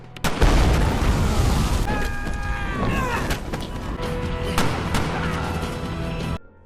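Pipe bombs and gas go off in a big, loud boom that sustains as a rumbling blast with crashing debris, followed by scattered gunshots in an intense action-film firefight, ending abruptly.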